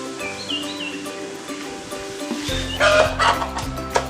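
Chickens in a coop cluck and call at moderate distance, with a burst of louder, closer clucking partway through over a steady background hum.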